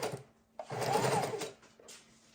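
Sewing machine running a narrow zigzag stitch across a mixed media journal page, a short whirring burst of rapid needle strokes with quieter pauses between runs, close and fairly quiet.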